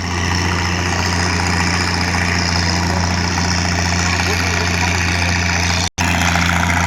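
A motor grader's diesel engine running hard at full throttle, a loud steady low drone with a constant hum and vibration that holds unbroken apart from one momentary cutout near the end.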